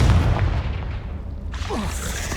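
A Confringo spell explosion in Hogwarts Legacy, a loud low boom that rumbles and fades, followed by a brief whooshing sweep.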